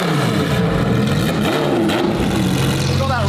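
A car engine revs hard on a closed private lot, a loud, close, rising and falling throttle roar that holds steady through the short burst.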